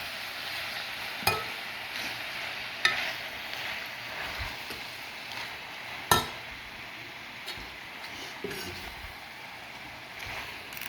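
Spinach is stirred in a hot pan while making palak paneer, soft scraping and quiet sizzling with a few sharp clinks of the utensil against the pan.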